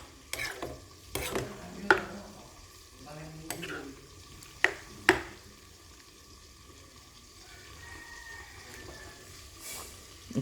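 Pork with bamboo shoot, cooked Assamese style, is stirred in a pan with a little meat water. A spatula scrapes and clanks against the pan in irregular strokes over a soft, steady simmering hiss.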